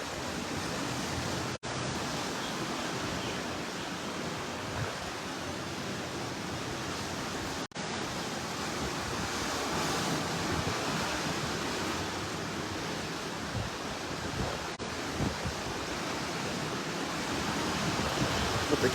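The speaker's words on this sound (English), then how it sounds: "hopefully you can hear the sounds, the sound of the ocean." Ocean surf rolls on a breathtaking morning shore as a broad, steady roar with wind, constant throughout with no talk.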